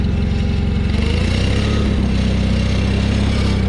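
A 1991 John Deere 318 lawn tractor engine runs at a steady, even throb, loud and close, with no pauses or speech over its continuous drone.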